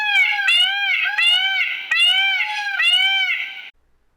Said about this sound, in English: Here's the sound of a crying peacock.